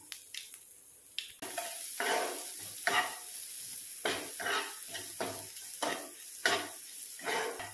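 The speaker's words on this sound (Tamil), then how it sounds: "நல்லா வதக்கிக்கோங்க." Urad dal, curry leaves, chillies and rasam powder sautéing in a pan, soft sizzling broken by repeated scraping stirs of a spoon against the metal, close and moderately quiet, no talk.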